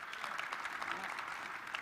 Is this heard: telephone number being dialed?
no